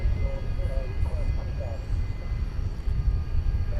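A 15-year-old Aerologic Boeing 777 freighter from Toronto lands at night at DFW Airport, giving a distant, steady jet roar with a low rumble. Faint voices talk underneath.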